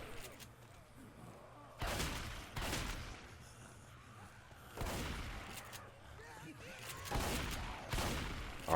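Shotgun blasts in the Left 4 Dead video game, several loud, broad bursts a second or two apart over a constant background of game noise, with commentators talking throughout.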